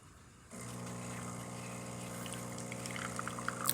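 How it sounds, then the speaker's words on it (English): A DeLonghi espresso machine starts up abruptly and then hums steadily with a pump drone while coffee streams from its spouts, a continuous liquid pour under the motor tone, close and moderately loud, with no talk. "coffee comes out of the spouts with a nice steady stream"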